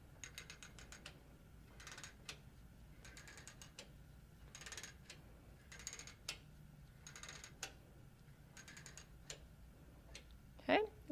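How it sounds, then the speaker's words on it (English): The take-up pole of a Moxie XL quilting frame is turned with its ratchet stops, giving repeated bursts of quick, close mechanical ratchet clicks in an uneven rhythm, plus a sharper knock near the end. "we're now going to turn the take-up pole to advance the fabric."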